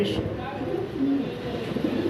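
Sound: pigeon cooing

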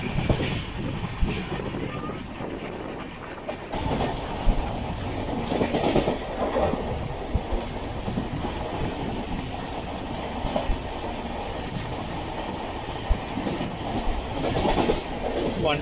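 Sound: 06053 Onam Special train running on rails

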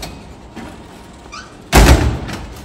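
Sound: ORSY MAT vending machine door closing

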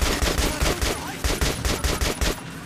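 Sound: enemy gunfire from the video game Metro Last Light

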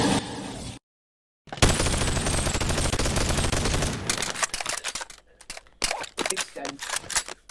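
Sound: gunfire in the video game Boneworks

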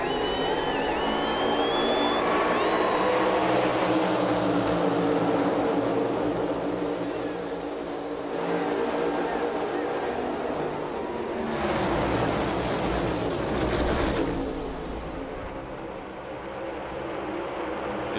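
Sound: NASCAR Cup cars accelerating at Talladega

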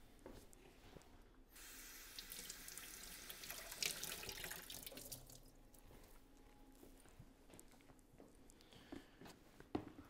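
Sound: wetting a towel under warm running tap water

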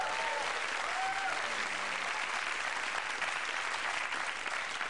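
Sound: audience applause for Tom Petersson

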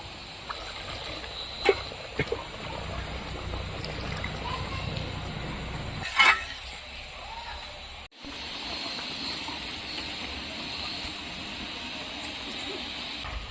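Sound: water poured into pot of Gobindobhog rice

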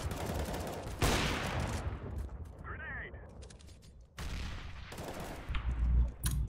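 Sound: gunfire spraying at a wall in a video game

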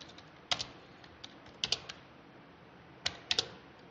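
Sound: typing Java code on a computer keyboard

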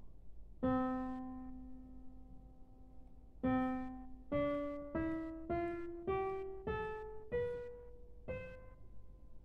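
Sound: custom soft grand piano sound

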